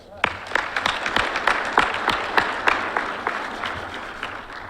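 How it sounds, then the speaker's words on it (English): Applause for a guest speaker at a fire recruit graduation ceremony, with distinct individual claps standing out from a modest crowd, starting sharply and softening gradually over several seconds. "Let's give her a round of applause."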